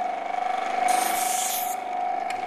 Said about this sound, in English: gently smoothing the back of the lens